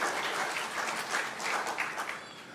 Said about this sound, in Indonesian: Yang percaya berikan tepuk tangan buat Tuhan